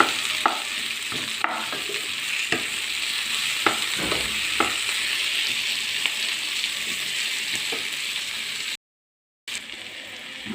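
Onion and capsicum fry steadily in a pan for a chilli gobi gravy, a constant bright sizzle with occasional soft stirring taps, close and continuous apart from a brief dropout near the end.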